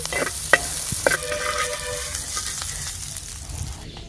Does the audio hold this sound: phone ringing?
no